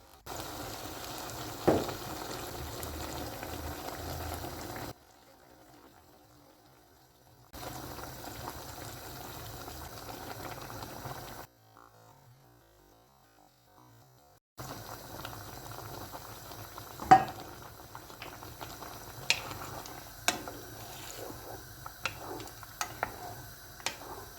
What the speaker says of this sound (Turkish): 2-3 dakika kavurduğumuz bamyaların üzerine 3 su bardağı sıcak su ekleyelim.